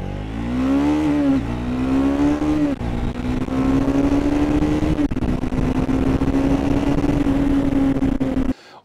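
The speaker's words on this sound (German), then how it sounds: "Und dann zündet der Motor einfach mal die zweite Stufe." A Triumph Speed 400 motorcycle engine pulls hard through a gear change, its note dipping and then climbing steadily as it accelerates, loud and close for several seconds before cutting off abruptly.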